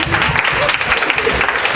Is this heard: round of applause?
yes